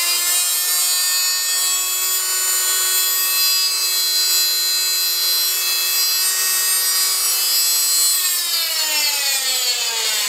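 A saw blade cuts a small piece of hard white oak with a steady, close, high-pitched whine that holds evenly, then drops lower near the end.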